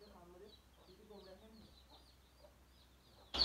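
Chickens on a poultry farm cluck faintly in the distance, with a cluster of soft clucks early on that fade to near quiet, then an abrupt loud noise at the very end.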